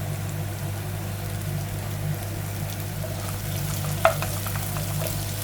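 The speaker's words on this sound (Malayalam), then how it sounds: "നന്നായിട്ട് ഗോൾഡൻ കളറൊക്കെ ആകുന്നിടം വരെ നമുക്ക് വഴറ്റിയെടുക്കാം" Onions sautéing in a pan until golden for an egg curry: a steady, even sizzle throughout, with one sharp clink of a utensil near the end and no talking.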